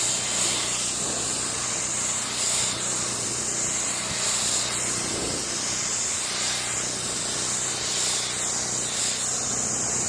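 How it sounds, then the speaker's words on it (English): Pressure-washer water spray rinsing a Mercedes GLC 300 AMG, a constant broad hiss with slight surges as the jet moves over the body, steady and unaccompanied by voices. "So now we're going to rinse it all off."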